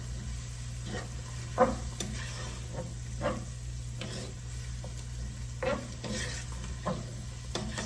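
Singapore-style vegetable fried rice gets stirred in a hot pan: repeated scraping strokes of a spatula every second or so over a soft, continuous sizzle, close and fairly quiet.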